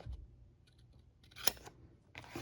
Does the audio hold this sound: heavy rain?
no